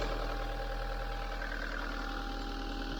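A 2003 Toyota Land Cruiser Prado 120 engine idles steadily nearby with a low, even rumble and faint ticking throughout, no talking.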